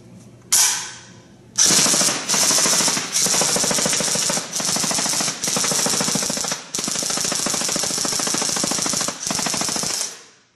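A G&G FN SCAR-L airsoft AEG on an 11.1 V LiPo empties a full magazine in long, loud bursts of rapid mechanical firing, broken by a few brief gaps before it stops.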